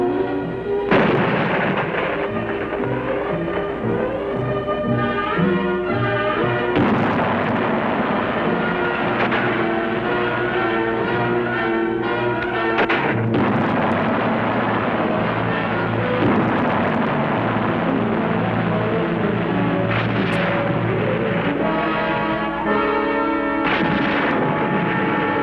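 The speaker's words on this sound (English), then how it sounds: "5 batteries of artillery, mortars, anti-tank weapons, and machine guns are brought to bear upon their positions." Battle barrage of artillery, mortars, anti-tank weapons and machine guns: a dense, continuous roar of heavy blasts and rumbling fire, loud throughout with sharper cracks breaking through at intervals.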